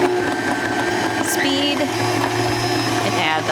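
A stand mixer food processor attachment dices Vidalia onions for homemade spicy tomato salsa, a steady loud motor whir with a few brief squeaky whines, a voice speaking faintly over it.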